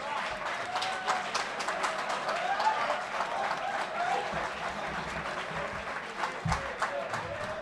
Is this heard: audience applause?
yes